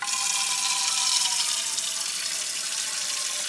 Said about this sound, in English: First thing we're going to do is fill up our pan with water.